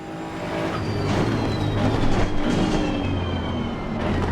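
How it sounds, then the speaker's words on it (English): A steady roar of a GT2 race car engine under load in the video game Assetto Corsa Competizione, droning continuously with a faint rising whine, loud and close throughout. "it does have a distinctive engine and exhaust note"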